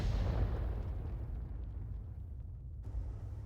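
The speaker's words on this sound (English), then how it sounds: "We're firing behind the rock." Weapons fire in a real-time strategy game battle on the Oxagon map, a deep rumbling boom that rolls out and fades under a steady low drone.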